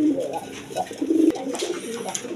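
Rasgolla pigeons coo in low, rolling throaty bursts at close range, with a brief sharp knock partway through and faint background noise.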